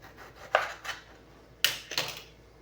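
A knife slicing through a ripe tomato on a hard surface, two close cutting strokes each ending in a quick double tap, quiet and near with no talking.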